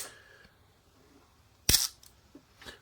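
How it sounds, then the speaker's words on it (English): A Lubitel 2 Soviet twin-lens reflex camera loaded with 120 film fires its shutter in one sharp, loud metallic snap, followed by faint handling clicks. "to fire the shutter is, I believe, this one here. Ooh, it's quite noisy."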